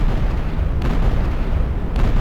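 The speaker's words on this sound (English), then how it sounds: "Every time it shoots, it'll play an explosion sound." A continuous loud, booming roar of explosion-like noise from a weapon firing in Unreal Engine 4, dense and rumbling, with a couple of sharp bursts cutting in.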